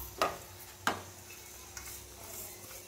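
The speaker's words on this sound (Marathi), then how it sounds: "आता हे सर्व बारीक गॅसवर सारखं हलवत राहायचं आहे" Grated coconut and sugar being stirred in a pan on low heat, a quiet background sizzle with two distinct scrapes or taps of a spoon against the pan early on and a fainter one later, no speech.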